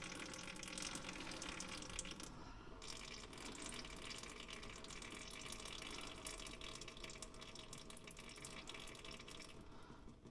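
Engine oil drains from a Trail Rider 570 ATV in a continuous, close-up pouring stream. The steady liquid gush holds for the whole stretch without pause.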